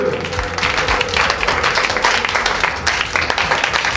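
A church congregation at a Christian competition event claps and cheers in acclaim of God, a loud, continuous wash of dense applause from a large crowd with mixed voices.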